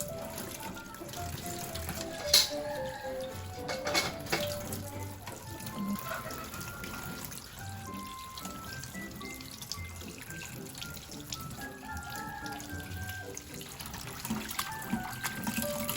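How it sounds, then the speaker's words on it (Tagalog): Tap water runs steadily into a sink as mustard greens are washed by hand, a continuous splashing stream with small knocks and shifts, close by and moderately loud throughout. "itong mustasa ay akin ang huhugasan muna ng maigi"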